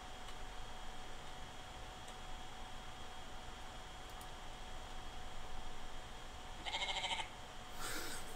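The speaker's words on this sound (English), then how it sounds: "Fucking sheep." Sheep bleat inside a barn in the Paranormal P.I. video game, faint and distant under a steady low hiss, with a couple of short bleats near the end.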